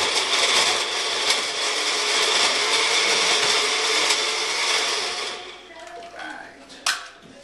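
A kitchen blender whirs steadily while making a smoothie, a loud close motor drone that cuts off near the end, followed by a few clatters.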